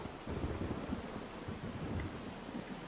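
A tornado-producing thunderstorm with heavy rain and a hail core, a dense, constant roar of rain and hail with low rumbling throughout.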